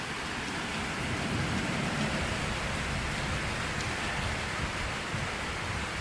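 Rain drums steadily on an RV cover in a small town, a dense, even hiss that stays unchanged throughout, with no voices.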